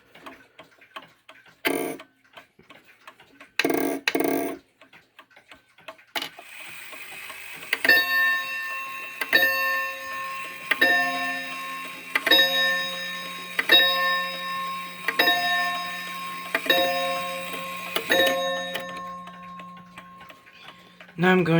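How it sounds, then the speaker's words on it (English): A Daejin 31-day chiming mantel clock's rack drops with a loud mechanical clatter, followed by a steady run of metallic chime strikes and ticking, with a few sharp clicks before. "noticed with this movement that when the rack drops, it's really loud"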